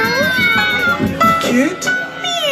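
Several people imitate cat meows with their voices, overlapping drawn-out mewing calls at a birthday gathering, loud and close, mixed with talk.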